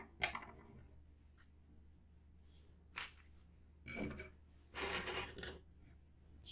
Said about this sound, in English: fasten and cut your yarn